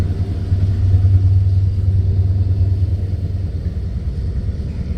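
Ottawa O-Train on the Trillium Line (Line 2), its engine and transmission rumbling directly beneath the floor, a steady low drone that holds at a constant level with no talk.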